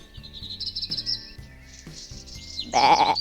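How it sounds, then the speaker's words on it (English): Cartoon farm goats give a short bleat near the end, sharp and close, after a bouncy musical backing with chirpy tones. "Look at the funny goats"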